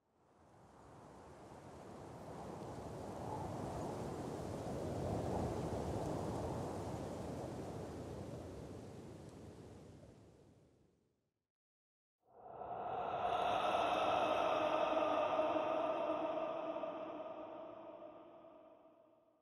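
Soul Sand Valley biome ambience in Minecraft, a long windy, surf-like whooshing roar that fades out, then after a brief silence an eerie tonal, wailing layer with a higher ringing overtone.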